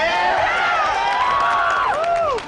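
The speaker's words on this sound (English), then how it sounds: "You can even hear the crowd at E3 2001 getting hyped after seeing Ridley in the trailer." Crowd at the E3 2001 expo reacting to a Ridley reveal in a Smash Bros trailer, a loud, continuous wash of cheering and excited voices over trailer music with sweeping tones.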